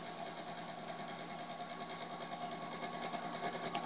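A protein skimmer runs on a 75-gallon in-wall reef aquarium, giving a steady, close mechanical hum with bubbling water texture that holds evenly throughout.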